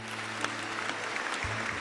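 Applause rises from a crowd at a gathering, a brief steady wash of clapping with a low hum underneath.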